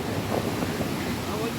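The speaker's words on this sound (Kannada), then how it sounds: "ಅಲೆ ಬಂತು, ದೊಡ್ಡ ಅಲೆ ಬಂತು" Large sea waves roll and break near a fishing boat out at sea, a dense continuous rush of surf mixed with wind buffeting the microphone throughout.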